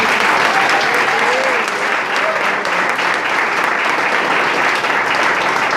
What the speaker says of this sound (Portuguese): Pode glorificar o Senhor com uma salva de palmas.